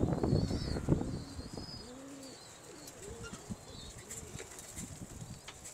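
Pigeons coo in soft, repeated low calls while wings flap close by, with higher chirps scattered above the cooing and a busier burst of flapping at the start.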